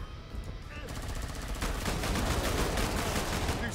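Sustained rapid machine gun fire in Killing Floor 2, dense continuous bursts that grow heavier and louder partway through, with other game noise under it.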